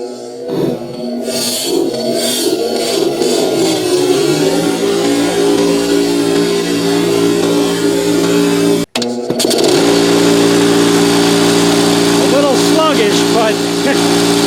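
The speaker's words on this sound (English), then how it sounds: "Let's see if the old Coleman 6-gallon air compressor will" An old Coleman 6-gallon air compressor runs with a loud, steady motor roar, cuts out briefly, then restarts and keeps droning evenly at close range, with people talking over it.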